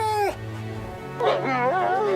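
A wolf whimpers close by, first a long falling whine, then a wavering, rising and falling series of high, nasal whines after a short pause.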